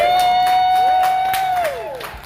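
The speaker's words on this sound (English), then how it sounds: "Please give yourself a round of applause." A theater audience applauds at the close of a show in Tombstone, Arizona, with a steady crowd clatter and a sustained tonal whistle or squeal on top, fading slightly toward the end.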